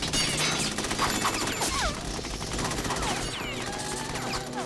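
Gunfire in the Metal Gear Solid 2 video game, dense rapid bursts and crashing impacts overlapping loudly throughout, with tonal game effects and a voice briefly calling out amid the shooting.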